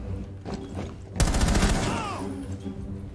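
Gunfire in Rainbow Six Siege: a sudden loud burst of machine pistol shots cracks out in rapid succession, followed by a ringing tail and a few fainter thumps, with quieter game noise before and after.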